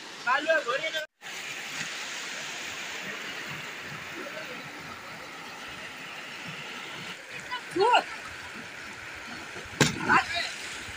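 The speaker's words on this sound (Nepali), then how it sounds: "फाइनली गाइज खोला आइसकेको छ।" A river flows steadily as a broad, continuous wash of water noise, with a few brief splashes or knocks near the middle and end.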